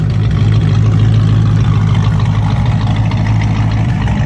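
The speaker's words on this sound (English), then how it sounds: "You can hear the dual exhaust chopping." A 1995 Ford Mustang GT 5.0 V8 idles nearby in a garage with a steady, low rumbling, choppy dual-exhaust throb, loud and continuous without pause.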